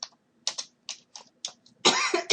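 A person gives a series of short, dry coughs with brief gaps between them, then one longer, harsher coughing burst at close range.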